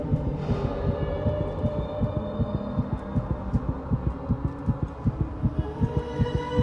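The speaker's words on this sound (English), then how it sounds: "Yo, and the heartbeat" A steady, deep rhythmic heartbeat sound effect from the TV drama Dahmer throbs continuously under a low droning hum, loud and close with no talking.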